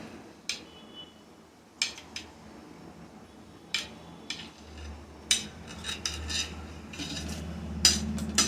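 Cooked pidi karunai yam is cut into large chunks and dropped into a pot of Tamil-style curry. Sparse, sharp knife taps and clinks ring out one at a time over a faint low hum.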